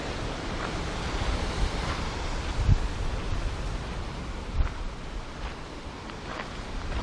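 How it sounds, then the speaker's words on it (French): Surf washing onto a small, deserted beach in New Zealand, a steady broadband rush of waves with occasional brief swells, mixed with some wind noise on the microphone, no voices. "ça nous amène sur une petite plage ici. Voilà, il n'y a personne."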